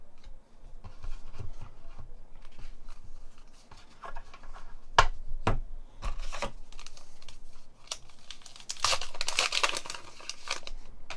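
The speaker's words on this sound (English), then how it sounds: "I do like the paper packs. They just open right up, no problem." Paper Star Wars Unlimited booster packs are torn open and handled up close, with crinkling, tearing rips and sharp crackles coming in irregular bursts and louder rustling toward the end.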